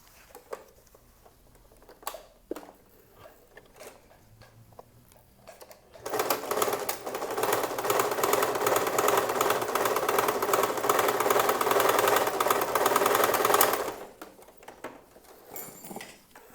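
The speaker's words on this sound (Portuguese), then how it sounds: "Agora eu vou costurar, dando retrocesso no início e no final." A sewing machine stitches the back pocket of dress trousers, with backstitching at the start and end, running steadily for about eight seconds after quiet handling sounds, then stopping.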